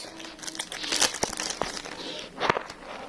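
A pack of football trading cards is torn open and handled up close, giving quiet bursts of foil crinkling and short tearing rustles.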